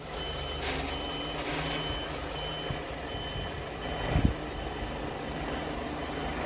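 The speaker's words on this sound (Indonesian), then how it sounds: "Lihat teman-teman. Ini ada truk towing atau truk" Toy tow truck giving out steady, repeated reversing beeps at a moderate level, with faint motor hum underneath and a brief clatter near the end.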